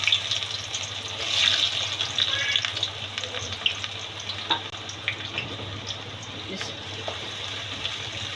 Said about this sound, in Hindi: पहले हम प्याज ब्राउन करते हैं